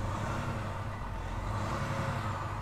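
A 2020 Volvo VNL 860 truck idling with its engine running, a low, steady diesel rumble heard up close and fairly quiet, continuous with no talking.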